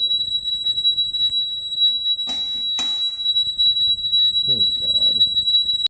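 A house alarm sounds during a home inspection as a steady, piercing high-pitched tone that runs throughout, with a couple of sharp bangs partway through and a man's brief exclamation.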